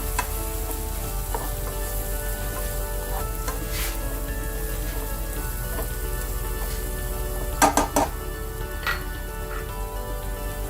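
Fish curry base for tilapia and green mango curry cooking in a pan, giving a steady, quiet sizzle and gentle frying crackle throughout, with a few brief scraping stirs near the end.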